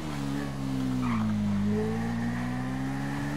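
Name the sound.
motorcycle engine revving in video game GTA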